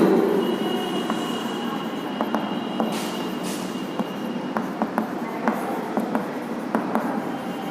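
A pen scratches and taps out equations by hand for a Class 9 lesson on linear equations in two variables, the short strokes ticking over a steady background hiss with no voice.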